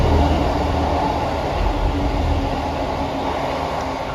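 Train passing through Romiley station during diversions, with a steady, loud rumble of wheels and rail noise close by that holds for the whole stretch without pause.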